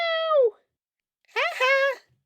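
A human voice imitates a cat meowing twice, close and clear, first a falling meow, then a longer wavering one after a short pause.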